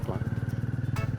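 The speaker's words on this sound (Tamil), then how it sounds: "நான் 3rd கியரில் போட்டு வண்டியை ஸ்டார்ட் பண்ணுறேன்" A Hero Mavrick motorcycle engine idles and pulls away in third gear, its low pulsing exhaust beat steady and close, while a person talks over it.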